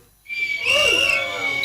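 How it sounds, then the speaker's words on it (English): A whistle is blown once and held for over a second, a sharp, steady shrill tone that rises in loudness and stays strong, with faint background noise around it. "I said blow whistle."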